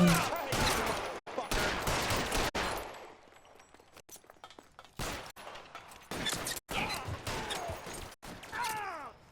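Heavy bursts of machine gun fire in a video game, loud volleys broken by short pauses and chaotic combat noise, with some talk mixed in.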